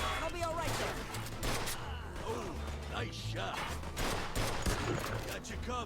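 Dense, continuous gunfire from a firefight in Mafia 2 Definitive Edition fills the whole stretch, with rapid overlapping shots, crashes and impacts, while a player's voice talks over it.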